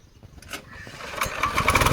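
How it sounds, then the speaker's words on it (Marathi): A tractor engine cranking during rice-planting season in rural Konkan, a short rough turning-over sound that grows louder but never catches. "आता बघा चालू करता ट्रॅक्टर चालू होत नाही"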